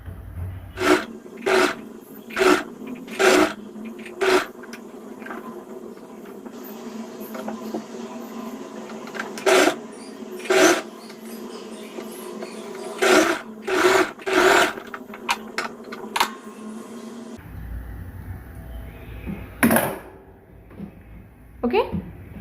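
A sewing machine stitches the side seam of a two-dart blouse and sleeve in repeated short, close bursts, with rubbing of fabric and handling between runs.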